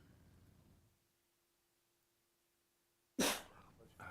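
A single loud, close sneeze bursts out suddenly after a stretch of near silence and a faint steady hum in a school board meeting room, followed by a brief trailing noise.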